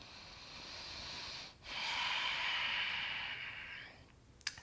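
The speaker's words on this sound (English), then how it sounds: "And now just nice full breaths." During a yoga pose, a slow, full breath is drawn and released nearby, a soft airy rush that swells, briefly pauses, then carries on in a long exhale before fading.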